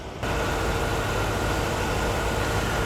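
A 1993 Chevrolet Corvette convertible's 5.7 liter LT1 V8 idles smoothly under an open hood, a steady close hum that starts abruptly and holds even throughout.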